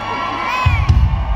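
At a rock concert, a large crowd screams and cheers loudly and continuously, with high shrill shrieks over booming low thumps from the stage.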